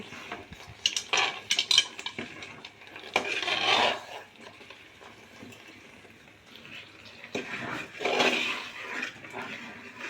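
A spoon stirring coconut flower lehyam with turmeric in a cooking pot, irregular scraping and clinking strokes in close bursts with quieter pauses between.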